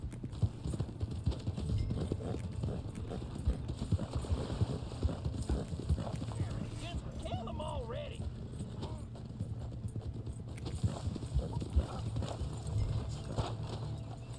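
Hooves of a horse clip-clopping in the video game Red Dead Online, a steady rhythm of hoof falls that runs throughout, mixed with other game sounds and some talking.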